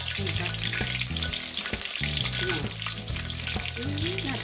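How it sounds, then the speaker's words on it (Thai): Crispy mushrooms deep-fry in hot oil with a loud, continuous close sizzle, broken by stirring clinks and scraping throughout, with no voice. "ทอดไปให้หมด ทุกอันที่เราจะทอดนะคะ"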